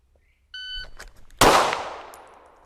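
On a shooting range, an electronic shot-timer beep sounds, then a pistol is drawn and fires a single loud, sharp shot at a target, and the report rings out and decays over about a second.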